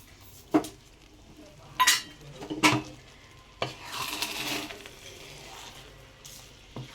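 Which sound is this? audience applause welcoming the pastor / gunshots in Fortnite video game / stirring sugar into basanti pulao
stirring sugar into basanti pulao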